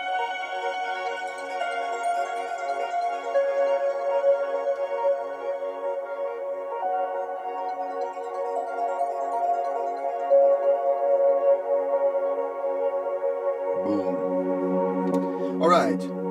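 Sustained warm and trance synth pads with piano notes ring out in the melodic layers of a trance track, smooth and steady, with a short blip-like burst near the end.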